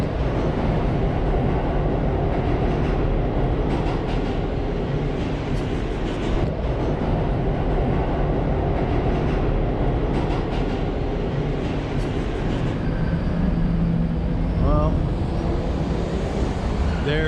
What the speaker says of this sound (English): There goes the D train,